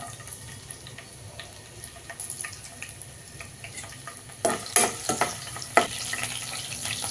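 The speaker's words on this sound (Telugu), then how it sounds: "Oil heat ఎక్కిందండి. పచ్చిమిర్చి వేసుకుందాం." Thinly chopped green chillies fry in about three spoons of hot oil, a quiet crackling sizzle with a few sharper pops and spatters near the end.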